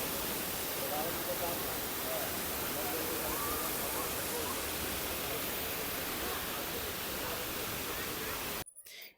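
A waterfall at a sightseeing spot near Gangtok roars as a dense, steady, broadband rush that fills the scene, loud and continuous until it cuts off abruptly near the end.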